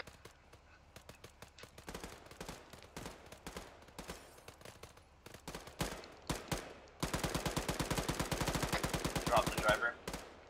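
Sustained machine-gun fire at a truck in the video game Arma 3: scattered bursts of shots give way to a long, rapid, loud automatic volley near the end, with faint voices in the background.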